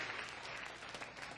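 An audience applauding a rock band at a music venue, a dense, steady burst of clapping from a crowd that fills the brief moment without voices.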